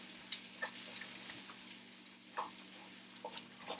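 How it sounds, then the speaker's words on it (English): Egg frying in hot, slightly smoking fat in a pan for fried rice gives a faint, steady sizzle with small crackles and pops scattered throughout, heard close and alone. "mix up the egg in the fat."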